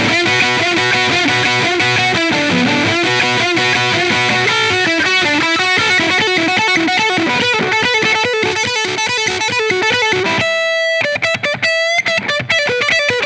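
Electric guitar driven through a Boss OD-3 overdrive pedal into a clean amp, strummed chords and riffs with warm, rounded distortion playing loud and continuous, ending with a few sharper picked notes.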